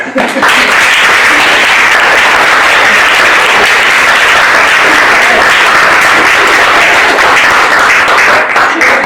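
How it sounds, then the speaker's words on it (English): Loud, sustained applause fills a room as a crowd claps vigorously and continuously for several seconds, with scattered voices mixed into the clapping. "Let's give him a round of applause."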